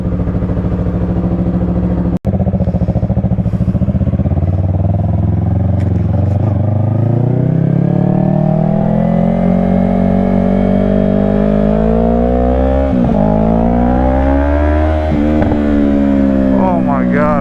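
Yamaha R3 sport motorcycle engine warming up at idle and revving, a loud, steady close-up drone with rising and falling pitch sweeps later on and one sharp click early.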